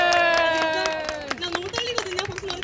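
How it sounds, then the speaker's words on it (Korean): A crowd at a street busking dance performance in Hongdae: a long shouted cheer from a voice fades into irregular, lively hand clapping and crowd noise, fairly close, with more whoops mixed in. "그래도 박수 많이 쳐주세요."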